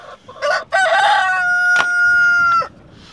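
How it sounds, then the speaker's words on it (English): A rooster crows loudly and close, one long drawn-out call with a rising start and a sustained, ringing end. "because those roosters are noisy"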